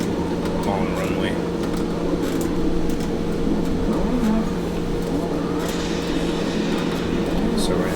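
In the Assetto Corsa racing game, a car's engine drones steadily and loudly through a long drift, a continuous mechanical hum lasting several seconds with small shifts in pitch.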